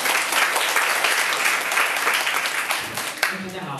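Steady applause from an audience welcoming a speaker to a talk, dense clapping throughout that thins near the end as a voice begins.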